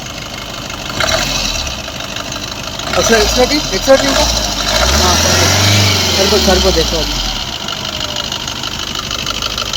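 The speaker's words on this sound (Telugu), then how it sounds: "ఇంజన్ స్టార్ట్ అయింది" A 2017–2018 Maruti Suzuki Dzire ZDi diesel engine idles steadily with a low rumble while people talk over it.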